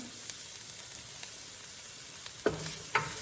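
Bok choy sizzles in a hot pan with onions, a constant hiss of frying with faint clicks, then two sharper scraping stirs near the end.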